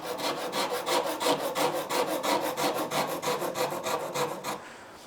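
A Shinto rasp filing a wooden guitar body, with about twenty rhythmic, rough scraping strokes at close range, evenly paced, fading to quiet at the end.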